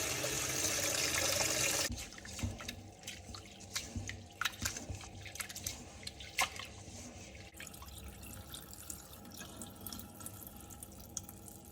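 Running water from a tap pours steadily, then gives way to close splashing and dripping as split mung beans are rinsed and stirred in a bowl.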